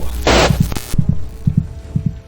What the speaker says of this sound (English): The heartbeat faltered, as if affected by Charles' refusal.